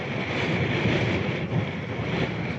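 Big sea waves wash around a small fishing boat at sea, a steady, close roar of rushing water with wind buffeting, unbroken for the whole stretch.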